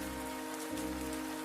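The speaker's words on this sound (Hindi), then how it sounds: "देखो माधुरी, यह ठंड की पहली बारिश है," The first cold-season rain falls as a continuous even hiss of drops on a surface, steady and moderately close, with a low hum beneath and no voices.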